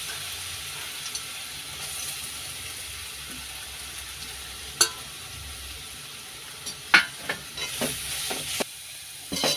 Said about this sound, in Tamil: இப்போ அதே வெசலில் துருவி வச்சிருக்கிற கேரட் ஆட் பண்ணிக்கிறேன்.